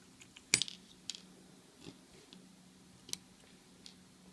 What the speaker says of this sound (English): I'll just remove the screws.